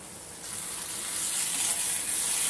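Drumstick masala gravy sizzling in oil in a pan while being mixed, a close steady hiss that swells louder after the first half second.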